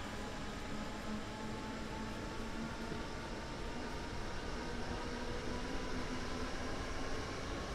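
S-Bahn Rhein-Ruhr S1 electric train in Train Sim World gathering speed at line speed, a steady broadband rumble and rolling hiss with faint tonal whine, continuous and even throughout with no talking.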